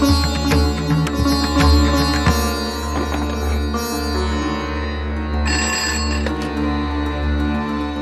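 A telephone rings steadily and loudly over a low constant hum, its repeated trilling tones filling the moment with no one speaking.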